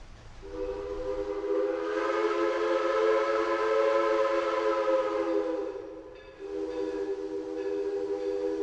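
Old steam locomotive whistle at the Kentucky Railroad Museum, two long, loud chime blasts, the first held for about five seconds and the second following after a brief pause.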